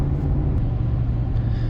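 A Ford F-250 with the 7.3 Godzilla engine roars steadily while climbing a hill, giving a continuous deep, heavy rumble close inside the cab with no talking.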